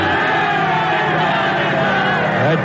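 Roar of some fifteen thousand soldiers yelling together in a 1945 USO radio dramatization, a dense sustained crowd shout filling the whole stretch at steady loudness.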